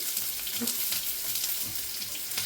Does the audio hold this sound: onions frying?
yes